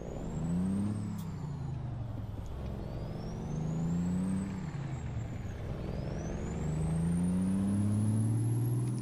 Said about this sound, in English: I think those guys were using their Jake brake as well